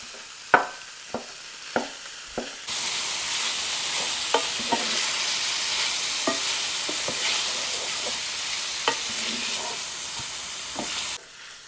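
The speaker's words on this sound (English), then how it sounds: "we put about a half a cup of white onion in our pan. We're just going to cook it all together." Half a cup of chopped white onion hits a hot pan and sizzles in a steady, close hiss for several seconds, marked by occasional utensil taps, for Big Mac–style sloppy joes; no one speaks.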